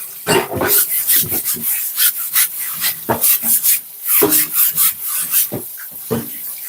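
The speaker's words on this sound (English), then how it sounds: "I'm just scrubbing my cutting board" A cutting board gets scrubbed up close with loud, rhythmic brushing strokes in quick repeated bursts, scratchy and abrasive, with no talking.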